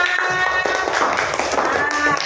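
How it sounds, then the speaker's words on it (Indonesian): A class in an Islamic studies lesson claps for a group of students, a brief scattered burst of hand claps and taps mixed with voices and chatter in the room. "Terima kasih ya kelompok 1 tepuk tangannya."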